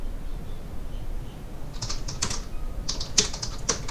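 Clicky keystrokes on a computer keyboard while an SQL query is entered, starting sparse and then coming in quick irregular bursts over a faint background hiss.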